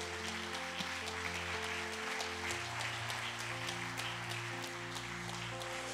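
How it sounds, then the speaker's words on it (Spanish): Congregation applause at a Good Friday church service, a continuous, fairly faint patter of many hands under sustained organ-like musical tones, with no speech over it. "Podemos darle un aplauso fuerte a nuestro Dios."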